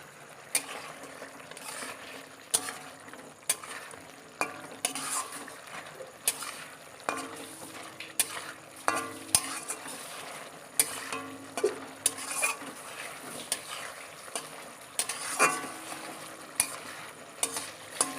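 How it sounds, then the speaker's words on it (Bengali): Fried eggs go into sizzling masala in a pan for a Bengali egg kosha, with a steady frying hiss and repeated scraping stirs from a spatula, about one every second, close and fairly soft. "এবার আমি 3টে ডিম যে ভেজে রেখেছিলাম সেগুলোকে দিয়ে দেবো"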